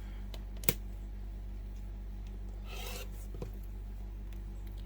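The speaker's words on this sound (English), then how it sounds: "I'm just going to place my ruler onto that line, and then I'm going to cut them apart" A single rasping stroke of a rotary cutter slicing quilt fabric pieces apart along a ruler, framed by a sharp click before it and a soft tap after, in a quiet room.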